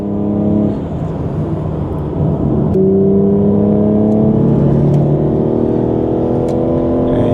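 A V8 or V12 Aston Martin Vantage engine runs loud and close on a cold track day at Brands Hatch. It idles with a steady drone, then climbs in pitch through a couple of rising revs that hold and fall.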